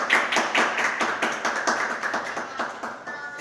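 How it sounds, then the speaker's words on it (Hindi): Students clap together for their principal at a school gathering, a loud, brisk, fairly rhythmic round of applause from a group that carries on steadily before tailing off. "एक बार प्रिंसिपल साहब के लिए जोरदार तालियां बजाएं आप"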